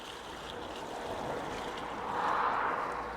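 A watering can pours water onto potato plants in a garden. It makes a steady, close rush of splashing that swells slightly toward the end, with no talking.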